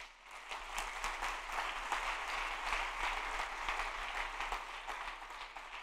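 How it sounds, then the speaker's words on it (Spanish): A church congregation applauds with steady, moderately distant clapping sustained for several seconds, with no voices over it. "Dele un aplauso al Señor."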